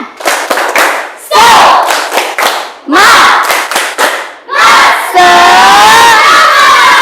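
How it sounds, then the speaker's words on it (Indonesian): A school class performs a rhythmic tepuk semangat clapping chant, loud sharp bursts of claps grouped in patterns alternating with shouted chanted phrases from many young voices, ending in a long sustained group cheer. "marilah kita tepuk semangat kembali"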